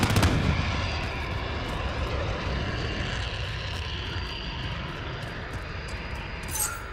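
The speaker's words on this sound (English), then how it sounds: "I guess he didn't because of the jet." A jet roars overhead during an online multiplayer match of Call of Duty Modern Warfare, a loud broad rush that peaks at the start and fades slowly, with small clicks over it.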